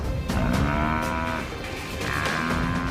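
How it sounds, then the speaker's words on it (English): A buffalo gives deep, loud bellowing moos while fighting off a pride of lions, two drawn-out calls close by with no talk. "Buffalo is strong and can wheel around, slashing with his horns, lashing out with his hooves."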